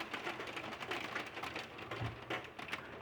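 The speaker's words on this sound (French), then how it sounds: "une petite averse de grêle sympa. Avec des grêlons quand même." Light hailstorm on a March day in Villers-Bocage, France, with small hailstones pattering in a dense, continuous crackle of scattered hits, fairly faint and steady, no talking.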